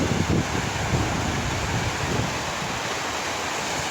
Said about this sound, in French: c'est la rivière Yoda.